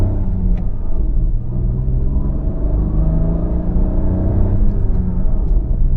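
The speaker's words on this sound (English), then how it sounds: "You do hear that 3-cylinder thump when you actually misbehave with the engine" A Kia Syros 3-cylinder turbo petrol engine drones loudly and steadily from inside the car, a low, thrumming rumble with shifting tones as the revs climb.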